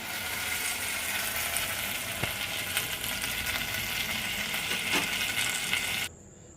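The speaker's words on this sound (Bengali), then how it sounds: "এইভাবে সব বড়াগুলোকে ভেজে রসে ডুবিয়ে নেব" Lentil fritters (rosh bora) frying in hot oil give a steady, dense sizzle that runs without a break and cuts off near the end. No one is speaking.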